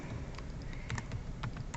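Computer keyboard typing, a steady run of quick clicky keystrokes close by, with uneven rhythm and a few louder taps, over low room hum and no voices.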